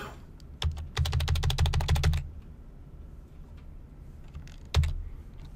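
Fingers type on a computer keyboard in a homework demo, with a short tap, a dense burst of rapid keystrokes for about a second, then a pause before a final few keys, close and crisp.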